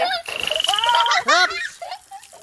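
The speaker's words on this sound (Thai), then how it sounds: "ผู้ใดบ่เคยเห็นกบฝรั่ง มาดูกบฝรั่งกันได้นะคะ กบสีทองค่ะ" Golden frog croaking in short harmonic calls that rise and fall, close and fairly loud, with some voice-like tones mixed in.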